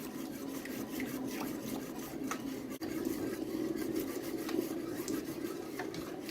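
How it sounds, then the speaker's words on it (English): A spoon scrapes and rubs steadily through a thickening banana cinnamon mixture in a pan, a continuous close rasping with soft rhythmic strokes. "I will keep stirring until the mixture starts getting thick"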